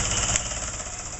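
A teal heavy-duty cast iron sewing machine runs steadily through six layers of heavy woven upholstery fabric, making a close, continuous mechanical hum and whir with no pauses.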